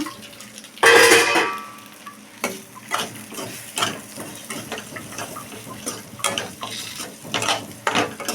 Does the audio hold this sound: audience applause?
no